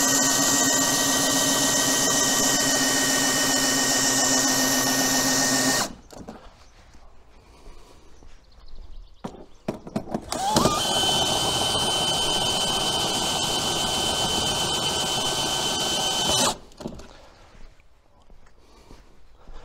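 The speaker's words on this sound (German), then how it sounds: "die Arbeit macht der Akkuschrauber" A cordless drill drives the jack of a Dux camper cabin being loaded onto a pickup, whirring loudly and steadily in two long runs separated by a quiet pause with faint handling noises.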